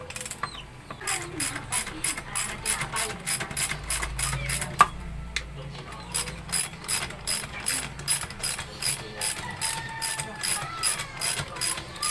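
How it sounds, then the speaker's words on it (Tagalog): A ratchet wrench loosens a nut on a Honda Click scooter during brake shoe maintenance, producing rapid, evenly repeated bursts of sharp mechanical clicking, close and clear, without speech. "So luwagan muna natin to mga boss at tatanggalin natin yung nut na to"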